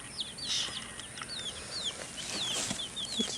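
Backyard chickens, including Isa Browns, cluck with soft, rising chirps and a brief wing flutter, a faint and fairly close scene with no talking.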